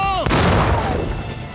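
A Sherman tank's main cannon fires in a World War II battle scene, one loud, sharp blast with a long rumbling decay, preceded briefly by a tonal whine.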